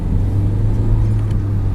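A car accelerates on the road during an advanced driving lesson, its engine giving a steady low rumble, close and constant, with no talk over it.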